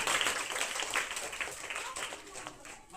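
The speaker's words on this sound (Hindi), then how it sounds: "एक बार जोरदार ताली बजाकर" A school audience claps loudly at a quiz competition in a government school in Bihar, a dense, steady wash of hands lasting about three seconds at moderate distance, with faint voices mixed in.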